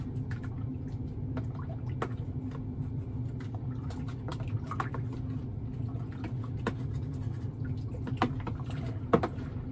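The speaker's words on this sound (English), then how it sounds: "let's go ahead and stir that in" A spoon stirring Mangrove Jacks saison yeast into homebrewed beer wort in a fermenter, a steady low liquid swirl with scattered small splashes and drips, close and moderately quiet, without voices.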